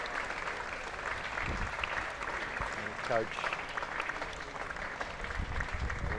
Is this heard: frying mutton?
no